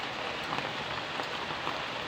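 Steady rain patters densely on bottle gourd leaves, a continuous soft hiss with scattered droplet taps.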